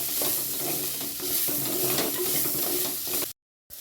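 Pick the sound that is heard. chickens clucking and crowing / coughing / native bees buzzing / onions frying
onions frying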